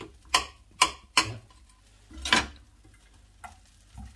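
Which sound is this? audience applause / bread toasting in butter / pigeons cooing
bread toasting in butter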